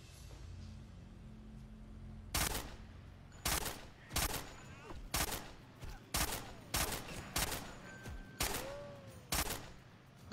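About nine loud, sharp gunshots crack out in an uneven sequence, each with a short echoing tail, during a World War II sniper battle in the virtual reality game Sniper Elite VR.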